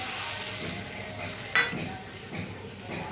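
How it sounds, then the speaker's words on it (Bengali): Water from a spice bowl poured into hilsa frying in mustard oil and mustard sauce, a steady sizzle throughout with a brief louder splash and clink of the bowl against the pan midway, close up. "এই বাটিটা মশলা রেখেছিলাম, সেই জলটা দিয়ে দিচ্ছি।"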